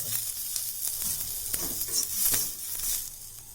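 Hot oil tempering poured over lightly browned onion in a home kitchen, giving a steady close sizzle with crackling bursts throughout, with no talking.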